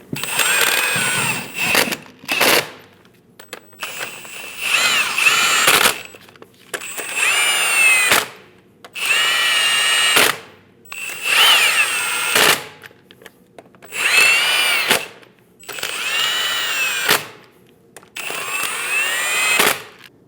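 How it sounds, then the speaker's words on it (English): An impact gun snugs the lug nuts on a 2001-2006 Chevrolet Silverado 2500 HD wheel in about nine loud, close whirring bursts, each lasting a second or two, separated by short pauses. "Snug down all the lug nuts."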